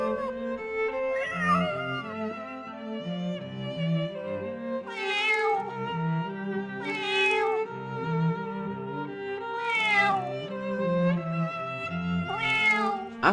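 A cat meows repeatedly, about five drawn-out meows spaced a second or two apart, loud and close over a steady musical backing.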